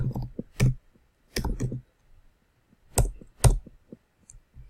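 Typing code on a computer keyboard: a few sharp, close key clicks fall in short clusters with silent gaps between them.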